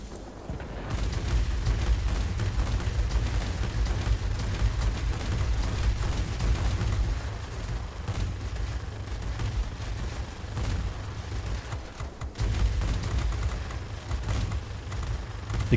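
Sustained heavy gunfire from a Fw 190 A-8/R2 in the World of Warplanes air-combat game, a dense, loud continuous barrage of booming shots with brief dips, running almost unbroken throughout.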